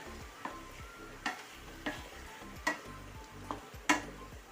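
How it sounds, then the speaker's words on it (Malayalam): Pepper chicken cooked in a pressure cooker being stirred with masala in a pan, with regular sharp spatula scrapes about every half second over a faint steady sizzle, quiet and close with no talking. "ഇതെല്ലാം കൂടെ നമുക്കൊന്ന് ഈ മസാലകളുമായിട്ടൊന്ന് മിക്സ് ചെയ്ത് കൊടുക്കാം"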